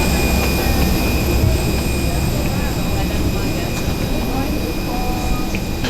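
A Cebu Pacific airliner's engines and cabin make a steady, loud, broadband roar that continues throughout. Faint voices of passengers can be heard underneath.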